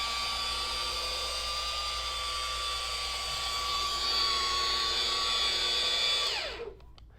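A DIY Detail Max Gloss rotary polisher with a jeweling pad works over shiny paint on a car hood, giving a steady high mechanical whine up close before it winds down and stops near the end.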